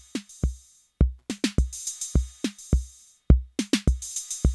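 A Roland TR-606 drum machine runs a clean, basic pattern: crisp kicks, snappy hits and bright hi-hat ticks in a tight, dry, evenly spaced rhythm, loud and alone.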